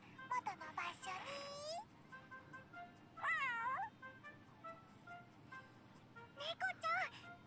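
Cat meowing inside the Princess Connect Re:Dive video game, several drawn-out rising and falling meows spaced a few seconds apart, close and clear over soft background noise.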